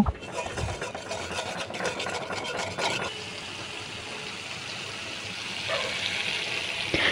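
Ground spice paste sautéing in oil with a splash of water for a Bangladeshi chicken kosha, a steady close sizzle with stirring scrapes early on that settles into a softer, even frying hiss.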